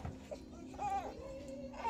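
A baby cries faintly during a bath at home, thin wavering wails mixed with splashing water and household noise, while adults talk nearby.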